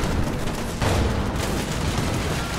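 Dense, rumbling bursts of explosions in the video game Fallout 76 fill the whole stretch, loud and continuous, with booming low-end crashes layered over a steady din.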